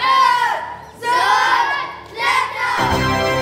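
A studio audience at a children's quiz game show cheers enthusiastically in three loud, surging bursts of shouting young voices, the last cut off sharply into a lower crowd murmur.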